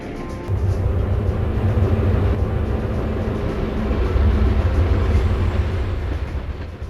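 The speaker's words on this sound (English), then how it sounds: "Northbound Freight 140 arrives with a mix of EMD and GE power" A loud late-1960s Florida freight train hauled by EMD and GE diesel locomotives rumbles past close by, a heavy continuous roar of engines and rolling wagons that swells slightly toward the end.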